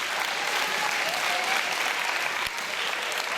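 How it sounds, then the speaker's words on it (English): Sustained applause from a school community audience at a CARES Program event, steady and dense across the whole stretch with no gaps. "how about a round of applause for our parents and our grandparents and our family members"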